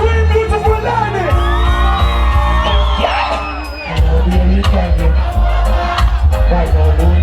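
Crowd at a dancehall concert on Labour Day 2013 in Antigua, screaming and whooping loudly over thumping live music, with shouting voices throughout.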